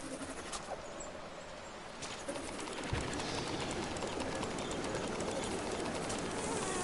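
A bird in the video game LittleBigPlanet 3 coos like a pigeon, a few soft repeated calls over a constant bed of bright game ambience and hiss.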